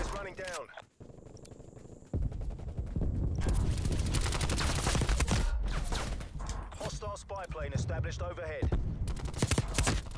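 AK-74u assault rifle fire in Black Ops Cold War, long loud automatic bursts with brief pauses, mixed with game effects and players talking over the shooting.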